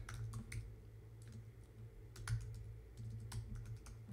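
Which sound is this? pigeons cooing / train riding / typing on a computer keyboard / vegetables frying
typing on a computer keyboard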